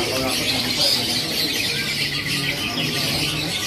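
Local zebra doves for sale chirp and call in a busy bird market, several birds overlapping in a steady dense chatter with some voices in the background.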